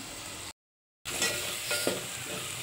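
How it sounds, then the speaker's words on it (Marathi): Masala for village-style chicken frying in oil while being stirred, a steady close sizzle with scraping stirs, broken by a short silent gap near the start. "बघू शकताय असं तेल सुटेपर्यंत परतायचं आहे"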